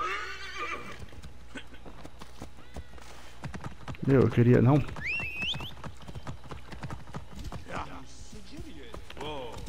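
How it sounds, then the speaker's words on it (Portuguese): A horse in Assassin's Creed Origins whinnies loudly mid-clip amid a steady patter of hoofbeats, while someone talks over the game sounds at the start and end. "Eu queria saber como faz o cavalo ir rápido."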